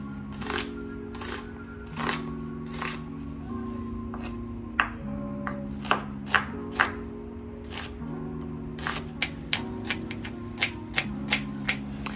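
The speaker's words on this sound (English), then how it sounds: "Then I cutting my veggies, prepare my onions, my pepper, green pepper, yellow pepper, as well as my garlic" Knife chopping onions, green and yellow peppers and garlic on a board while cooking a South African seven colours meal, with a steady series of sharp close cuts over soft background music, the taps growing quicker and crisper toward the end.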